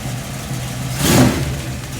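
A close, brand-new engine in a 1956 Chevy 210 two-door gasser drag car idling with a rough, lumpy rumble, then a quick rev that swells and falls back to idle.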